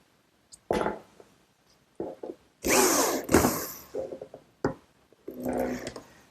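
A power drill bores a hole through the top edge of a wooden corner cupboard in a workshop, several short bursts of whirring with brief pauses between, close and fairly loud, no talking.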